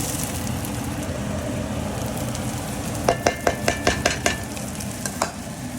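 Vegetables sizzle in a frying pan over a steady crackling hiss, with a quick burst of spoon or spatula scrapes and clacks as they are stirred partway through.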